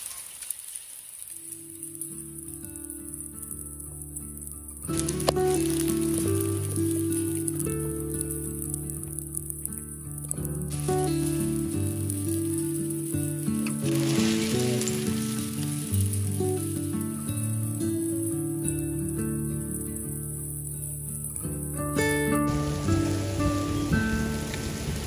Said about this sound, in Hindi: अचानक से छोटे छोटे ओले पड़ना शुरू हो गए हैं